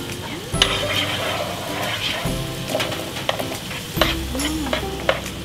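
Chopped onion fries in butter in a pan, with a steady sizzle under repeated scraping strokes of a stirring utensil and a few clinks against the pan. It is heard close up, with no speech.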